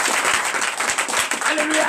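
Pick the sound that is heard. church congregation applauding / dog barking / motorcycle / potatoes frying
church congregation applauding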